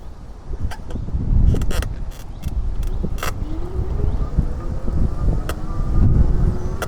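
Strong outdoor wind on a street buffets close to the microphone in heavy low rumbling gusts that swell and ease, with scattered brief clicks and knocks over it.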